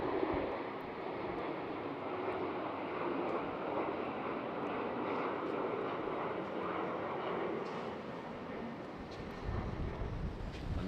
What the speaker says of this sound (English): we already have the next takeoff here